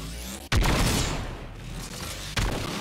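Gunfire from a pump-action weapon in the video game Fortnite, with two sharp, loud booming shots about two seconds apart, each followed by a lingering rumbling tail.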